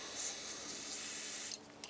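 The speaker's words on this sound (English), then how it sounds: "I'm just going to spray that as well" Hiss of D-grip aerosol sprayed onto a cut in a front-area part of a Formula Konick race car, a steady close spray lasting about a second and a half before it stops abruptly.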